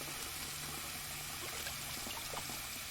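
Water in the game Life is Strange: True Colors, a steady rushing wash like a stream or pour, even and continuous throughout.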